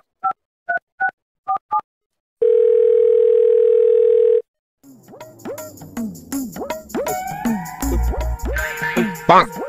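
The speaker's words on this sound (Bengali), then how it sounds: "অভিজিৎ আর দয়াকে একটা ফোন করি।" A few short dial-pad beeps, then a steady dial tone for about two seconds, followed by busy chirping and warbling sounds after it stops.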